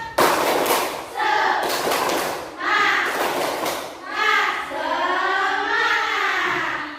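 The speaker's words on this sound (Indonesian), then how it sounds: "Tepuk semangat." Schoolchildren in a classroom clap and chant a rhythmic spirit clap together, loud group claps alternating with sung, chanted voices in a steady pattern.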